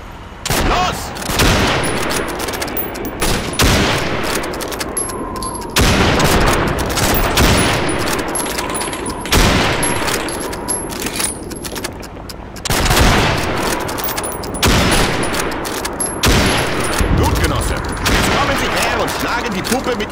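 Rifle fire in Call of Duty 2 during a timed shooting drill at helmet targets: loud, sharp shots crack out one after another at irregular intervals, with crashing reverberant tails filling the gaps.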